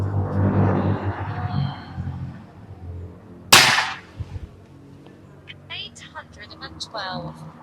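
A Bocap Monster M3 air rifle fires a single sharp, loud shot with a Mimis Hercules pellet, preceded by a low rumble and followed by quieter handling noises and brief chirpy sounds.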